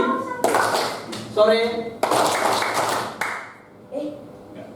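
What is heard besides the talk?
schoolchildren doing rhythmic clapping chant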